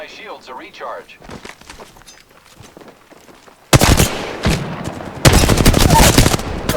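Video-game gunfire erupts in loud, dense bursts partway through, with rapid automatic shots continuing to the end after a quieter stretch of voices and scattered clicks.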